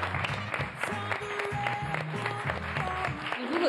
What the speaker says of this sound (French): À la fin de chaque présentation, les équipes sont applaudies.